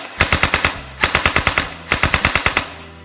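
A Si Jun SJ81-2 toy blaster fires full auto with blowback, its metal parts striking in three rapid bursts of sharp mechanical clacks, loud and close, with short pauses between bursts and no talking.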